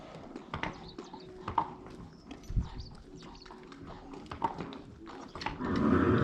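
A horse walks back in, hooves clip-clopping in an irregular walking rhythm on hard ground nearby, with a few louder strikes and faint background rustle.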